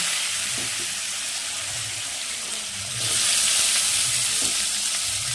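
Potatoes dropped into hot oil with black cumin seeds give a steady, loud frying hiss, growing brighter and fuller halfway through, with faint low clatter beneath.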